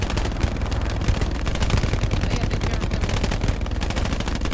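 Enemy machine gun firing in the video game Hell Let Loose, a rapid, unbroken burst of loud, evenly spaced shots that rattles on for several seconds at close range.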